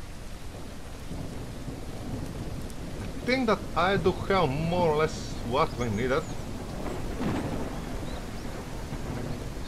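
Steady rain and rumbling thunder from a storm in the survival game Mist Survival, a constant wash of downpour underneath someone talking for a few seconds in the middle.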